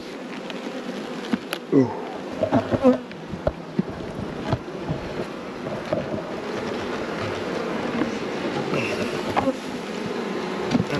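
Honey bees at an open Langstroth nuc hum in a continuous close drone, with individual bees zipping past the microphone and light knocks of hive handling. A single brief exclamation is heard.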